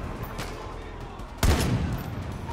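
A single loud gunshot goes off in the Far Cry 5 video game, a sharp close burst partway through, over a background of ongoing game ambience.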